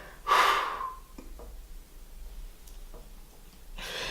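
A person exhales sharply during an abs exercise, one loud breath out near the start, followed by quieter breathing.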